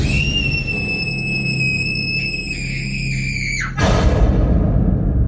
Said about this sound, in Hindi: चीख ही निकल गई